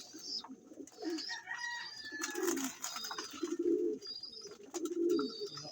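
Pigeons kept by a fancier coo repeatedly at close range, low throaty rolling calls layered with a few higher chirps from other birds, with no one speaking.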